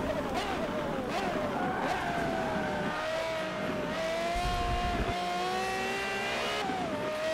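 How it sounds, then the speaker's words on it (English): A loud race car engine in the Forza 7 racing game drones steadily throughout, its pitch rising and falling as it revs through gears, with faint background sound beneath. "Wow, this engine's loud."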